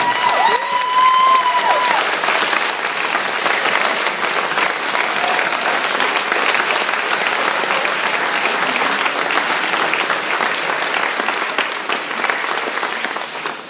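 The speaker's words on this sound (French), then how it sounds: "ce soir, applaudissons ces gens qui se sont présentés ici." An audience at a gala applauding young entrepreneurs, sustained dense clapping from a large crowd that holds steady for the full length and tapers slightly at the end, with a few faint cheers.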